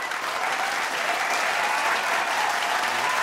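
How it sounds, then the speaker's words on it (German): Studio audience at a German late-night talk show bursts into sustained, dense applause that stays loud and even throughout, with a broad wash of clapping and no voices standing out. "Begrüßen Sie mit einem riesigen Applaus Roberta Valentini!"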